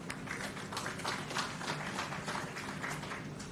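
An audience at an outdoor groundbreaking ceremony for the FCJ Boundbrook urban centre in Portland, Jamaica, keeps up a steady, moderately faint patter of applause from start to end.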